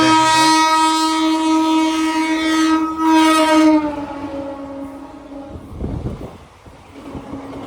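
A train passing alongside on the track sounds a loud, long, sustained horn blast, then gives way to a nearer rumbling clatter of the cars rolling by.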